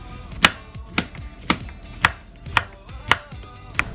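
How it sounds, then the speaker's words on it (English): Knife slicing mushrooms on a cutting board, vertically then horizontally for a vegetarian lasagna: about eight crisp, evenly spaced chops, close and clear, with no talk. "I just like start slicing first vertically and then horizontally"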